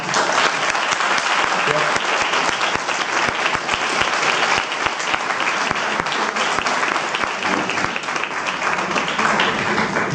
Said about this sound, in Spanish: un fortísimo aplauso para Óscar Iborra